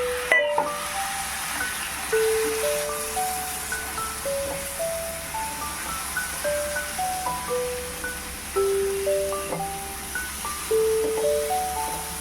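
Lote fish (Bombay duck) curry masala fries in a pan after water is added, a steady soft sizzle and hiss beneath a gentle melody of background music.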